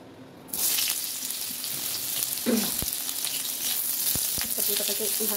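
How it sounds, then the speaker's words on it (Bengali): Pointed gourd pieces fry in a pan, a bright sizzle that starts abruptly and holds steady, punctuated by a few sharp knocks and scrapes of stirring, with faint voice-like sounds near the end. "পটলটাকে ভালো করে লাল করে ভেজে নিই"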